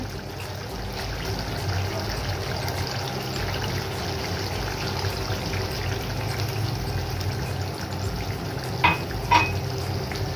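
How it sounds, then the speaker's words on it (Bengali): Spice paste (masala) for prawn curry cooking in oil, a steady low sizzle and bubbling with soft stirring, close and moderate in level, two brief sharp clinks near the end; no talking. "মশলার থেকে তেল ছেড়ে দিয়েছে। মশলাটা আমি কিছুক্ষণ কষিয়ে নিয়েছি।"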